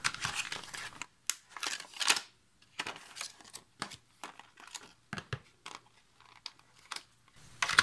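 Plastic packaging around a pair of scissors crinkles and rustles in irregular bursts, with sharp snips and tearing sounds between short pauses, close up and fairly loud.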